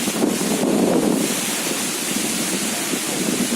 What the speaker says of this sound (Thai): ลมพัดแรงมาก